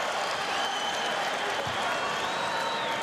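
A crowd at a Samford versus Nebraska basketball game applauds after a made foul shot, a steady wash of clapping and crowd noise with a commentator's voice faintly underneath.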